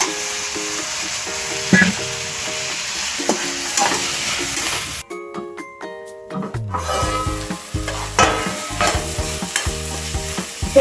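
Brinjal pieces stirred with softened onions in a pan for a sour brinjal, tomato and fenugreek curry, a steady sizzle with scraping stirs and a brief quiet break with tonal chimes midway.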